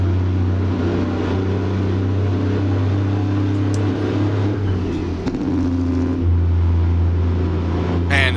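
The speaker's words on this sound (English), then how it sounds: "Man, that sound of the engine," A heavy truck engine in American Truck Simulator, driving an Alaska route with a frosty mod, drones loud and steady with a deep low rumble throughout, alone with no talk.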